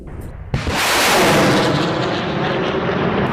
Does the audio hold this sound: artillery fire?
yes